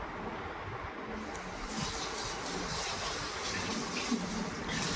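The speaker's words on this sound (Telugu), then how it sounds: "ఆగండి, కడుగుతున్నాం, కడిగి చూపిస్తా." Running water splashes steadily while something is being washed, a continuous broadband wash that grows a little louder partway through, close and alone with no talk.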